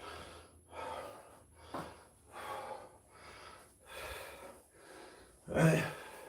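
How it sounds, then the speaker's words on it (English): Loud human breathing close to the microphone, a run of heavy inhale and exhale pulses at a steady rhythm, ending in a sharper, forceful gasp or snort. "I hate the sound of people breathing"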